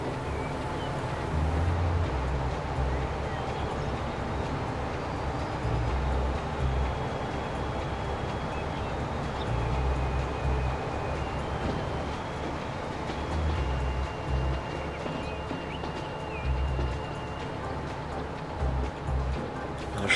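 Train running in the Transport Fever game, a steady low rumble of rail rolling with faint clicking, continuous and moderately loud throughout with no talk.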